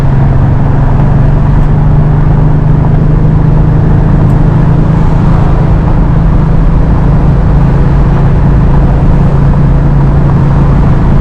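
A car engine with a freshly recored radiator turns about 5,000 RPM while cruising at highway speed. It makes a loud, unbroken droning whir with a steady low hum and no break over the whole stretch.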